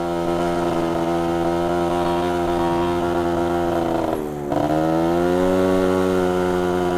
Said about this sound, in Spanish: Mirad, ya me está empezando a fallar la moto. Voy a puño roscado